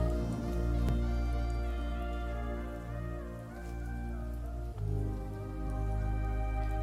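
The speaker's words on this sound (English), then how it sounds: "Just gonna be listening to Donkey Kong Rain." Rain ambience from a Donkey Kong video game, soft patter blended with sustained melodic music tones, gently swelling and fading at a moderate level, no talking.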